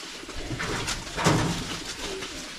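A pet pigeon coos close by in a rural yard where goats are kept, a few soft throaty coos rolling over a low background hum with no voices.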